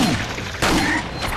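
Gunfire comes from the video game Resident Evil 4. A sharp shot lands midway through the short stretch, set against rumbling in-game background noise.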